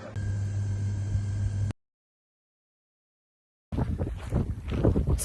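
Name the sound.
strong wind blowing on the Camino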